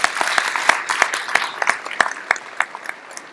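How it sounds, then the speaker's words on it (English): Applause from an audience at an award ceremony marking a Janm Jayanti celebration, a steady patter of many hands clapping with sharp individual claps standing out, fairly close and sustained throughout. "Big round of applause for that."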